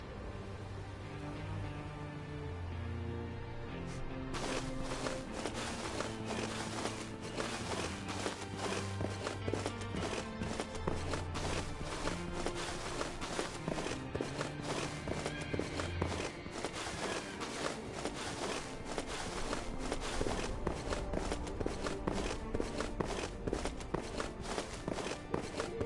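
Repeated footsteps of a character walking in the video game The First Descendant, a steady stream of steps under a loud, dense musical score that runs the whole way through.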